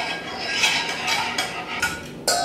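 Egg custard for île flottante being whisked continuously in a pan, a dense run of metallic scraping and clinking strokes with a few louder clinks near the end.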